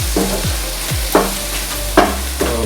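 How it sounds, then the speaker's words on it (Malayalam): Egg curry being mixed after garam masala goes in, rhythmic spoon scrapes against the pan roughly every half second over a continuous close sizzle. "പിന്നെ ഇത്തിരി ഗരം മസാല ഇട്ട് മിക്സ്."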